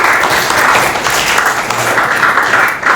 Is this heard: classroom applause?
yes